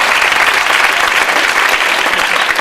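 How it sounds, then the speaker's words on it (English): A loud, dense round of applause rises from an audience at an evening gathering in London in 2006. The close, continuous clapping fills the whole stretch with no voices over it. "I think they deserve a round of applause."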